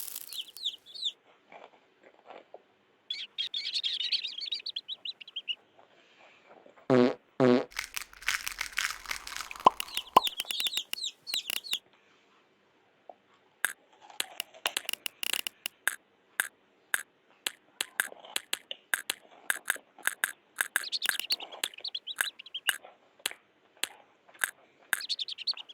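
Hungry chicks in a Peppa Pig video game, high chirps and peeps scattered throughout, mixed with rapid clicking taps and pecking sounds.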